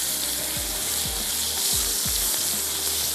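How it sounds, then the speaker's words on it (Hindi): Chopped tomatoes fry in a pan for Bihari pasanday, giving a steady close sizzle broken by several soft scraping stirs of a spoon across the pan. "टमाटरों को अच्छा सा भूनते हैं"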